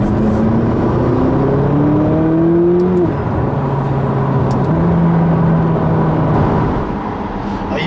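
McLaren 570GT accelerating hard, heard from inside, its engine note rising through the gears in repeated climbs with short shift breaks, loud and continuous with road roar underneath.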